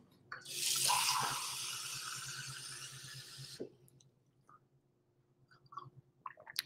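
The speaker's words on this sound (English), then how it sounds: "I need a glass of water though to start off." Tap water filling a glass: a close, steady rush from the faucet lasting about three seconds, then stopping abruptly, followed by a few faint clicks.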